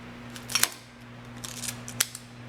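Okra is sliced with a 2-in-1 knife and cutting board tool, giving a few quiet, crisp snipping cuts in two short clusters over a faint steady hum; no voices.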